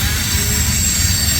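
A CSX mixed freight train accelerating onto the Metropolitan Sub, a loud close rumble of cars rolling past with a high, thin wheel squeal over the top.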